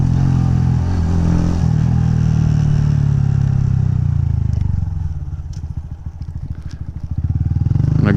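A small Honda Grom motorcycle rides over bumps on its little tires, with a steady close engine drone and a rattling clatter that gives way to a lower, throbbing idle-like rhythm before the engine rises again.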